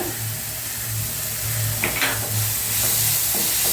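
Onions with salt sautéing in a pan for a mutton spleen fry, giving a continuous frying hiss with a low hum and a few soft scraping strokes of stirring, close and fairly loud.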